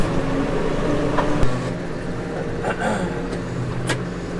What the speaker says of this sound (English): I'm just pulling in here to O'Byrne's yard with the trailer